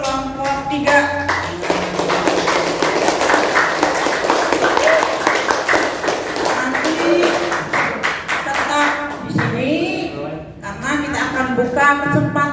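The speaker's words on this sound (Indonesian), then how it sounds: "Tepuk tangan untuk kelompok 3" A group of teachers and students at a junior high school session applauds group 3, brisk clapping sustained under chatter and voices, with a lull and renewed claps near the end.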